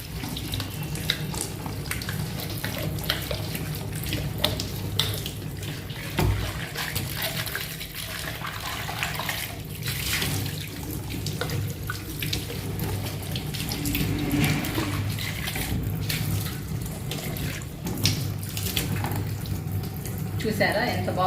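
Tap water runs steadily into a sink as a stained plastic mug is rinsed clean, a continuous close splashing rush with occasional knocks of the mug.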